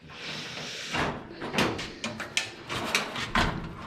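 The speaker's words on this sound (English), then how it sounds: "this is the most shallow drawer out of all of them. Just look at how deep it is when you open it up." A drawer on a new Craftsman metal toolbox slides open with a continuous rolling rumble, followed by several sharp clicks and clunks, all close and loud.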